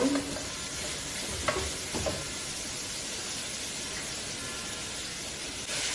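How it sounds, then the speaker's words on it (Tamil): Pepper chicken fries in a pan with a loud, continuous sizzle close by, broken by a few brief clinks of stirring, with no voices. "நல்லா ஃப்ரை பண்ணிக்கோங்க."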